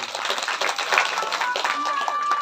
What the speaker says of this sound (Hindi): आपके लिए जोरदार तालियां